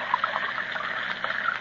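Hot broth trickles from a tin into a cracked cup in an old-time radio drama, a steady, bright liquid dribble lasting under two seconds, close and fairly quiet, with no voices.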